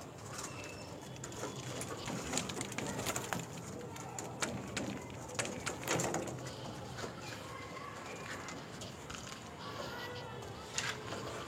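Andhra pigeons in a home loft coo faintly over scattered clatter and rustling, with a voice in the background.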